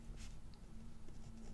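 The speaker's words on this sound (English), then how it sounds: "I've been dying to write on this paper to see what it feels like" A pen writing on planner paper, a quiet, close scratching with short strokes and faint taps, soft and intimate against a low background hum, with no voices.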